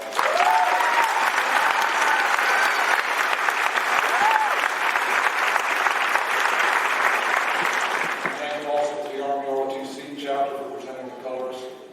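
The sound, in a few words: audience applause at a graduation ceremony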